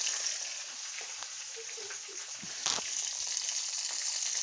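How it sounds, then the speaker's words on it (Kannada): Tomatoes frying in a little oil, with a steady broadband sizzle throughout and a brief louder burst of crackle partway through, no talking. "ಸ್ವಲ್ಪ ಎಣ್ಣೆ ಒಳಗೆ ಹಿಂಗೆ ಫ್ರೈ ಮಾಡ್ಕೊಳ್ಳೋಣ."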